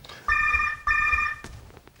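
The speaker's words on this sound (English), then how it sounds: "Yet another phone call." A telephone rings twice in quick succession, each ring a clear electronic trill of about half a second, with a brief sharp knock just after and a quiet room hum beneath.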